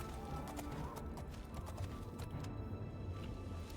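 Horse hooves clip-clopping in a fantasy role-playing video game, a steady rhythmic run of hoof beats over a dense rumbling background, fairly faint.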